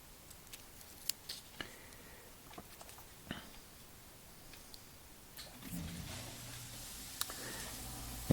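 Masking tape is snipped while masking a 1/64 scale custom NASCAR diecast car. Quiet, close cuts come in a sparse, irregular series, and a low mechanical hum rises near the end.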